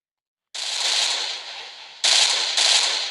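Minecraft weapon-mod guns firing on an iron golem: rapid automatic bursts start after a short silence, loud and close, with a brief lull before two more bursts.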